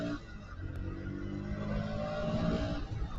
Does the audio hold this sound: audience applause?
no